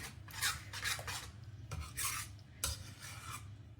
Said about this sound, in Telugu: ఇప్పుడు వీటన్నింటినీ బాగా కలుపుకుందాం.